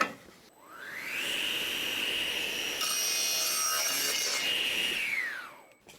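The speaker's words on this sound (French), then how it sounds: "maintenant je vais pouvoir couper d'onglet" A single long stroke cuts through wood for a miter joint on a workbench drawer, a rising then steady whirring tone that holds for about four seconds before winding down, close and loud with no talking.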